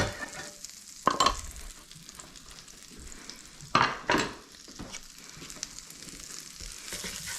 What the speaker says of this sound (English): I'm going to add 2 cloves of garlic.